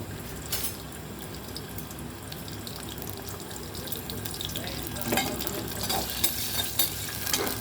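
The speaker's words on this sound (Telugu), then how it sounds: "అజార్ఖానను వేయించుకోవాలి బాగా గోల్డెన్ కలర్లో వేయించుకోవాలండి" Goat spleen pieces fry in hot oil with a steady, dense sizzle throughout, growing a bit louder toward the end, with occasional stirring scrapes and no talking.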